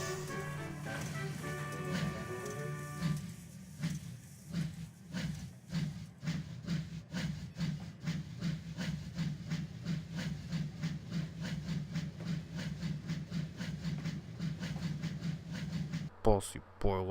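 A storybook steam locomotive on the Island of Sodor chuffs steadily, its rhythmic puffs running for most of the stretch beneath a narrator's voice, with a sharp burst near the end.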